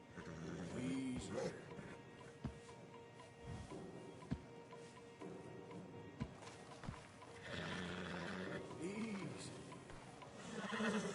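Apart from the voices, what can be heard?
horses neighing in video game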